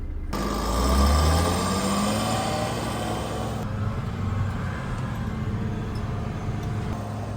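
A 6x6 off-road truck with an automatic transmission pulling away, a loud close engine rumble that swells as it revs up and then settles into a steady driving drone.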